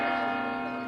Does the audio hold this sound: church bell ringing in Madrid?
yes